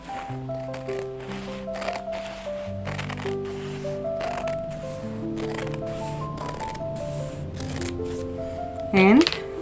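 Scissors snip through leather pieces for a large handmade bag, a few short crisp cuts scattered under steady talking and soft background music, ending with a louder rustle and squeak.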